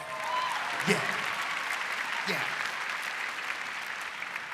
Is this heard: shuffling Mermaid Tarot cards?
no